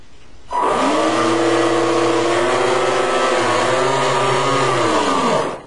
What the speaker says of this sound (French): Je vais faire fonctionner les moteurs.